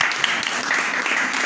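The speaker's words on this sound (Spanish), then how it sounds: "Así que este gran aplauso para todos." Audience clapping steadily at an event as people are thanked, a dense and fairly loud patter of many hands throughout with no clear voices over it.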